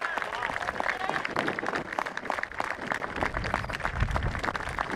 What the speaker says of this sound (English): I would ask that this class of 2022 applaud the people who have supported them on your journey.